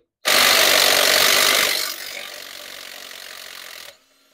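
Bauer 3/8 inch impact wrench removing a bolt from a Pontiac engine's timing cover area: a loud harsh burst of hammering whir for about a second and a half, then lighter spinning that cuts off abruptly.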